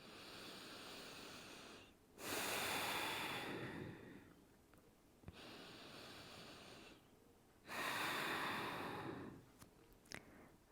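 Slow breathing during a yoga class, heard up close as long airy breaths that swell and fade over a soft steady background, two fuller breaths standing out.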